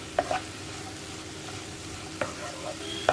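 Grated coconut stirred into carrot and bitter gourd thoran in a pan, with a steady low sizzle and a few sharp scraping clicks of the spoon against the pan.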